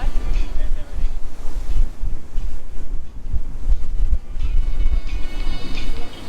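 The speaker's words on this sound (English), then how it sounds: "It's cold. It's windy." Strong wind buffets the microphone on a boat heading to the Blue Lagoon in Malta, a loud gusty roar mixed with rushing water and surf that rises and falls without a break.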